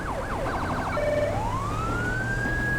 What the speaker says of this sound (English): I got my lights and sirens going.